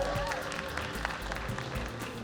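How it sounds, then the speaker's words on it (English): Light clapping from a small audience at a junior chef live cooking finals event, scattered and moderately close, with low background hum and murmur underneath. "Give Dejuan a clap,"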